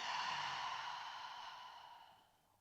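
A long, soft exhale during a gentle seated chair yoga practice, a single breath out that fades gradually over a couple of seconds, close and quiet with no talking.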